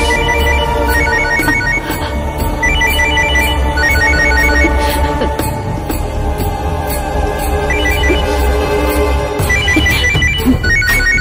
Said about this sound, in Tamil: சந்திரா சந்திரா போன் எடு, சந்திரா எடு, சந்திரா.